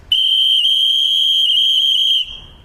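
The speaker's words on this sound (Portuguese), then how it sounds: "você tem um apito diferenciado" A falconry whistle calls a bird to the lure in one loud, steady, unbroken high tone lasting about two seconds before cutting off, heard alone and close.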